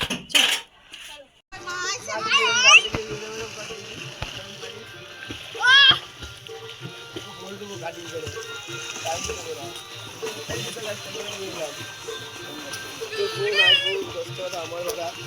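Children splashing and playing in water while bathing during a Pohela Boishakh family gathering, with bursts of splashes, sloshing and excited kids' voices mixed with chatter throughout.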